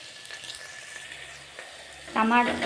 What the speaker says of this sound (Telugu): ఉల్లిపాయలు వేసి వేపుకోవాలి